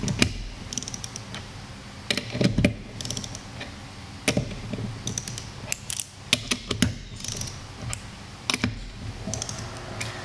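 A torque wrench tightening bolts on a Jerguson reflex gauge, quick ratcheting clicks in short bursts with pauses between, close and crisp, no talk.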